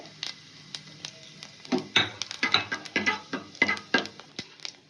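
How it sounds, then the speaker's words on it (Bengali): Whole cumin seeds, about a spoonful, sizzle and crackle in hot oil in a pan, a series of sharp popping bursts that rise after a quieter start and keep spattering close by. "তেলের মধ্যে দিয়ে দেবো আমি 1 চামচ মতন গোটা জিরে"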